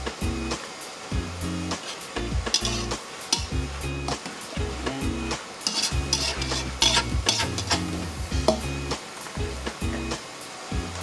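Garlic stirred into a hot frying pan with beef steak, sizzling loudly while a utensil scrapes and clatters in repeated stirring strokes close by.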